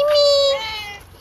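A cat lets out a single close, clear meow that trails off within about a second.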